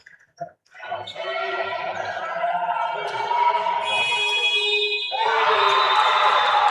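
Loud sustained basketball shot clock buzzer blaring for several seconds over a roaring crowd at a women's playoff game, rising sharply near the end as the crowd noise swells.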